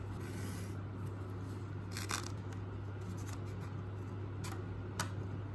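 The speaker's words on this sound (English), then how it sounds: "I'll just cut that out with some scissors and then I'll be good to epoxy it onto the micarta." Scissors snip through knife handle liner material before it is epoxied onto hessian Micarta scales, a few short close cuts standing out over a steady low hum.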